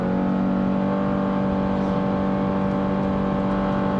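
A 2024 Subaru Crosstrek Wilderness with a naturally aspirated engine and all-wheel drive accelerates in sport mode, giving a constant, moderately loud engine drone with a faint whine, heard from inside the cabin.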